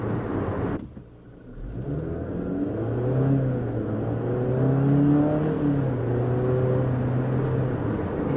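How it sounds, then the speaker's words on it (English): The 4-cylinder engine of a 2019 Jeep Compass accelerates under normal throttle, a steady mid-pitched drone that rises gradually in pitch as the car gains speed, heard from inside the cabin with road noise beneath. "More normal acceleration. You still do hear that 4-cylinder engine."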